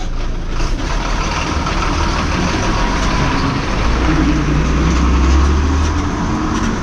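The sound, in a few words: vehicle driving past in a village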